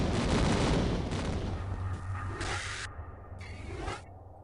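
Pistol gunfire aimed at a monster in the Tomb Raider video game, a run of sharp shots with whooshing game effects, loud and close with no talk over it.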